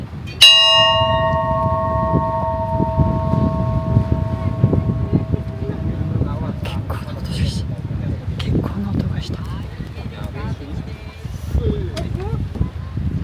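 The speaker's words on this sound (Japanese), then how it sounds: "鐘でも鳴らしてみましょうか。" A single large bell is struck once, a loud ringing peal that decays slowly over several seconds, with outdoor wind and ambient noise continuing underneath on an island trip at Ishigaki.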